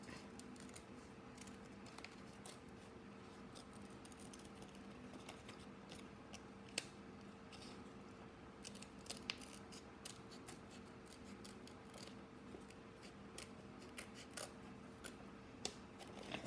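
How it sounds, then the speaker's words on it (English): Scissors snipping through paper to cut out circles for a homemade pop it fidget toy, a long run of quiet, close, irregular snips and rustles over a faint steady hum. "make a hole in the paper, in the circles, so that we can cut them out"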